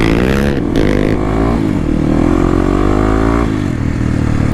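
Stock Kawasaki KLX motorcycle accelerating, a loud, close engine roar rising in pitch through revs with a gear change and continuing to climb, alone without voices.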